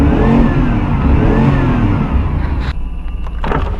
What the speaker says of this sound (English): Once it fired right up, it needed that juice to help that old gas a little bit.